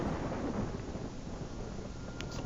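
Thunder from a lightning strike in the Devil May Cry video game, a continuous loud rumbling roar of storm noise that persists steadily throughout with no speech over it.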